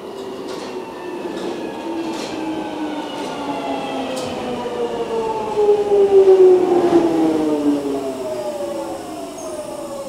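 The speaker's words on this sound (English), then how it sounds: "Oh, the train's approaching, it says." A London Underground Jubilee line train pulls into a station with a loud rising electric whine and layered tonal hum that swells as it arrives, with brief clanks along the way.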